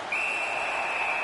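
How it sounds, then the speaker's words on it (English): A referee's whistle in the NHL 19 hockey video game on PS4, Blackhawks versus Stars, sounds as one long steady shrill blast lasting over a second, loud and clear over a soft arena hiss. "Holds on and gets that whistle."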